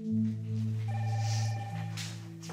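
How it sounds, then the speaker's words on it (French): A telephone rings in a quiet living room late in the evening, a steady tonal ring with sustained harmonic tones lasting about two seconds, fairly clear and close, with no talk over it. "le téléphone sonne."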